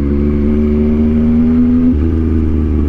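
Yamaha MT-07 motorcycle engine revving loud and close, a steady high idle holding a rising pitch before dropping sharply to a lower rumble near the end, with no talking.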